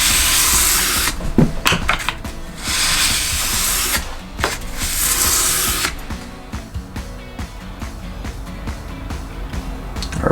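Mora Companion knife blade being sharpened on 1500 grit sandpaper, with repeated close rasping strokes in bursts and short pauses, the scraping loud and heard alone.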